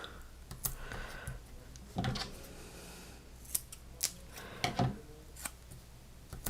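Scissors snipping hymnal paper at a craft table, a series of sharp, crisp cuts spaced irregularly across the moment, close and fairly quiet.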